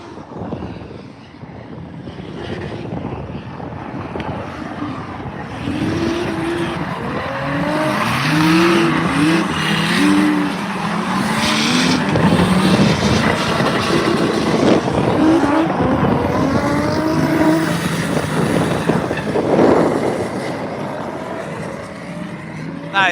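Diesel drift car at a drift event, engine revving hard with rising and falling pitch sweeps and tire squeal, loud and sustained near the track amid crowd noise.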